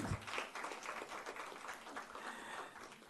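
Audience applause at a concert celebrating a classical singer's 80th birthday in Mumbai, a dense wash of many hands clapping steadily for about three seconds, moderately loud and continuous, with no clear speech on top.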